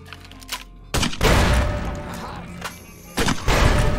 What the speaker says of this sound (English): the grenade launcher